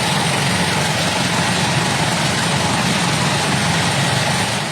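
A TNI AU helicopter engine delivering logistics aid at a field in Reo, Manggarai, a loud continuous broadband roar with low rumble that holds steady throughout, no speech over it.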